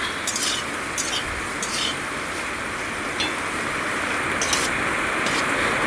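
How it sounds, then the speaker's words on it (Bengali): Soybean chunks fry in hot oil in a pan and are turned over, giving a steady, close sizzle with occasional clinks and scrapes of the stirring utensil. "তেলটা গরম হয়ে যাওয়ার পরে আমি সয়াবিনগুলো ঢেলে দেবো দিয়ে উল্টে পাল্টে ভেজে নেব"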